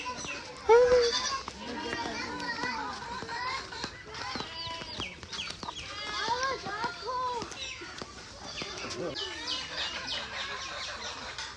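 Goat kids bleat repeatedly amid children's chatter and chirping birds in a Bangladeshi village, the bleats and voices overlapping throughout.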